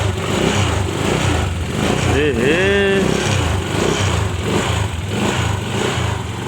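An old motorcycle engine runs steadily at idle, a constant close mechanical drone, with a voice briefly rising over it midway.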